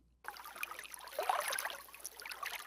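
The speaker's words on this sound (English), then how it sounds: "Maybe we can use that. Gentle dripping." Soft, light water trickling and dripping, starting after a brief silence and continuing steadily at low volume.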